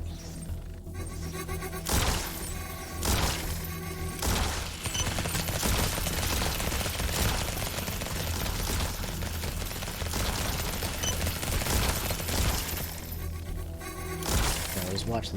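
Defensive turrets in the game Lumencraft firing at swarming enemies, a dense, continuous rattle of rapid shots and cracks with a few heavier bursts, loud and close, with voices mixed in.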